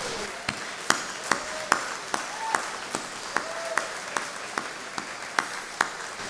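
Sparse, thin applause at the 2022 RV Hall of Fame induction ceremony: distinct individual claps land at a slow, fairly regular pace in a quiet hall, with no talk over them.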